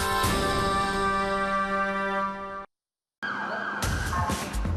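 Emergency vehicle sirens in a news promo, a loud wailing tone that cuts to brief silence, then resumes with rising siren sweeps.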